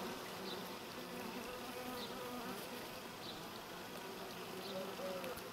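Honey bees buzz continuously around a dead hornet, a close, steady swarm hum with no pause, faint talk underneath.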